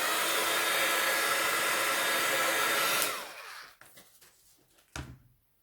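A heat tool blows steadily and loudly to heat set distress ink on a gel plate print, then cuts off around three seconds in, leaving a few faint clicks and handling knocks.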